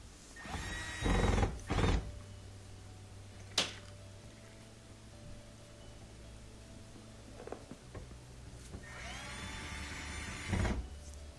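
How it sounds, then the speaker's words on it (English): Screws being driven back in on a Miele tumble dryer during a start-switch repair, giving two whirring bursts of an electric screwdriver near the start and another near the end, with a sharp click in between over a low hum. "And we're just putting those screws back in that hold it on."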